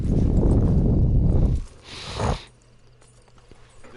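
A horse walks with clip-clop hooves in the Red Dead Online video game, a loud close burst of stepping for about a second and a half, then a brief snort or shuffle before the scene falls quiet.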